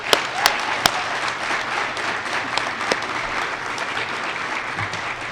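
An audience at a university press conference applauds the new head football coach, with steady crowd clapping and a few sharp, close individual claps standing out near the start.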